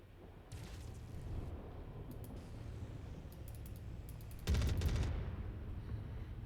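Rapid automatic gunfire in a video game, crackling in short bursts with one louder, denser burst near the end, set against a steady background hum of game ambience.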